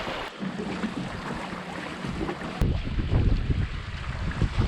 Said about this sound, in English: Hey Bob, your boat's almost on plane here.